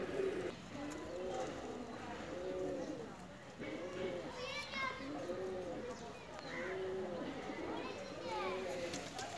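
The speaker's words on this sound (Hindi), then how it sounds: "ये दम्मा कबूतर है" A domestic Pakistani dumma pigeon coos in repeated low rolling phrases close by, with someone talking throughout and faint outdoor background activity.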